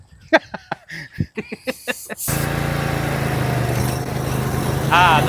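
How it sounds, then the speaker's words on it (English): After a few seconds of a person talking, a skid steer's engine fires up in a shop and runs loud and steady, a constant rumbling drone that swells slightly near the end. "Go get the skid steer."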